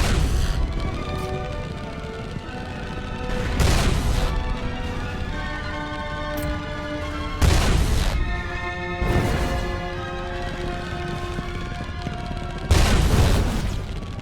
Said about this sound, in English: Stagger cannon shots against unpredictable ships.